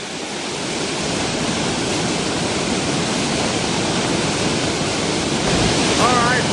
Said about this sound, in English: We have a good sized waterfall going all the way down to the bottom.